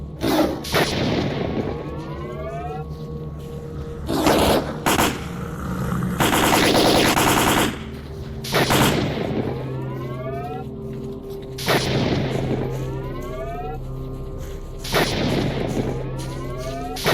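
Gunfire in the video game S.T.A.L.K.E.R. Call of Pripyat: loud bursts of rapid automatic shots and single cracks arrive in clusters, with one longer sustained volley, separated by brief lulls of low ambient rumble.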